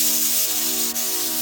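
A pressure cooker on an electric stove hisses steadily as it builds pressure, a constant loud spray of steam with a faint underlying hum, close and uninterrupted.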